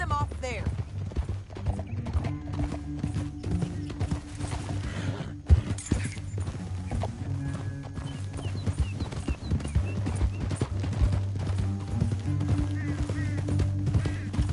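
Horse hooves clip-clopping in Red Dead Redemption 2, a steady run of hoofbeats with an occasional whinny, under low game music and voices talking.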